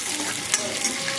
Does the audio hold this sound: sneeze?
no